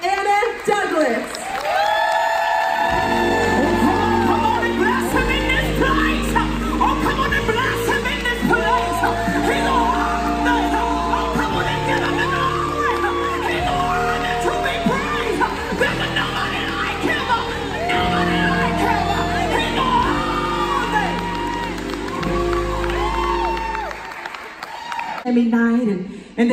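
A comedy club audience welcomes comedian Anna Douglas to the stage with sustained applause, whoops and cheers, a dense roar over loud walk-on music that fades out at the end.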